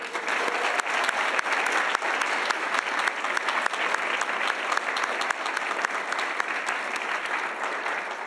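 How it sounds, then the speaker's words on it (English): A room full of guests at a college awards luncheon claps steadily for honored alumni and volunteer award recipients, a sustained and even applause with no voices over it. "Will you join me in a final round of applause and congratulations to our Honored Alumni and Volunteer"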